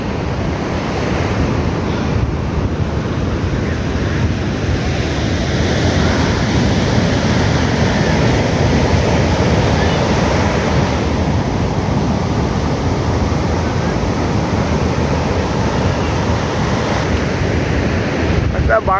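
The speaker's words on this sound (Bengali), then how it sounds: "আশা করি তোমরা সমুদ্রের গর্জন শুনতে পাচ্ছ" Sea waves roaring at Puri Beach, a loud, continuous crashing surf layered with wind buffeting the microphone.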